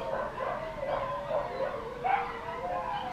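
Several dogs howl and yip together outdoors, a chorus of rising and falling wavering howls mixed with whimpering yelps, heard at moderate distance with no talking over them.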